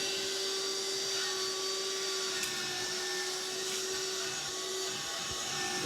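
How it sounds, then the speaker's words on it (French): A vacuum cleaner runs over a Jouef model rail crane, a steady close whine with a strong sustained tone and a few brief scraping ticks, no talking. "Il faut l'aspirer quand même de temps en temps."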